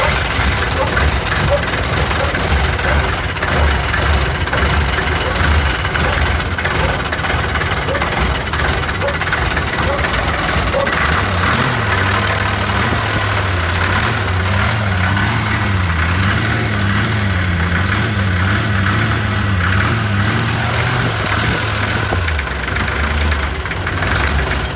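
An FC170 M677 Cerlist two-stroke diesel engine cranks and catches, then runs with a loud, close, rough knocking rumble that shifts into a steadier pulsing idle, with a voice briefly audible over it.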